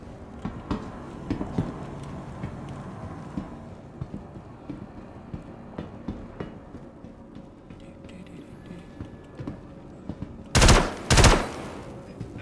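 Gunfire in the space game Star Citizen: two loud, dense automatic bursts near the end, following scattered quieter shots and clatter through the rest of the clip.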